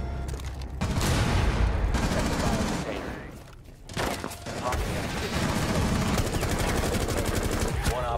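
Rapid automatic gunfire from a Rainbow Six Siege match, sustained bursts of rattling shots filling most of the stretch with a brief lull midway, voices talking underneath the firing.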